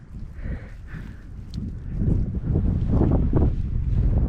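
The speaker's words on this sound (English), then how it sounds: "I thought the wind would push me, but it's not strong enough" Gusty wind blows outdoors by the water, buffeting the microphone in rough low rumbles that swell louder toward the end, with no voices.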